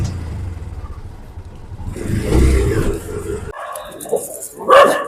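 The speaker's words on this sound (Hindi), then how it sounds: "यहाँ कुत्तों की मार हो गई, लड़ाई हो गई।" Dogs scuffling and barking on a street in Mumbai at night, a short burst of snarls and barks rising midway and fading, with passing traffic and a brief louder yelp near the end.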